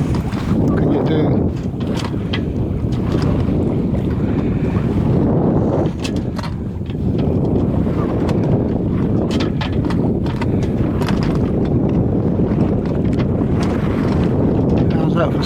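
Strong wind buffets the microphone continuously as a boat moves through choppy water, with rushing and splashing noise throughout.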